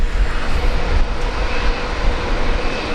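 A Virgin Australia jet begins its takeoff roll at Brisbane Airport, heading for Proserpine, its engines giving a loud, close, rumbling roar that stays strong and steady, with no talking.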